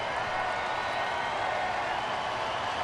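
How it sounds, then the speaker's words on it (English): A Thursday afternoon baseball crowd at Oriole Park at Camden Yards cheers and claps during an Orioles game against the Astros, a steady unbroken roar of many voices and applause. "this Thursday afternoon crowd here at Oriole Park at Camden Yards making some noise"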